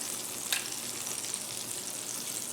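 An egg fries in butter in a medium pan. A steady, soft, close sizzle carries throughout, with a brief crackle near the start and no talking.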